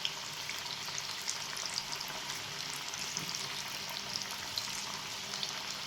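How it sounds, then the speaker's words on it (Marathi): Colocasia leaf vadis fry in hot oil in an iron pan, giving a steady, close crackling sizzle with scattered sharp pops throughout and no talking. "खरपूस छान तळायचे बघा आपल्याला"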